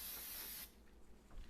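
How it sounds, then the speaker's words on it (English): A short, sharp hiss of Pam cooking spray into a measuring cup lasts about half a second, followed by faint handling noises. "I'm going to spray it with some Pam so it's easy to get out."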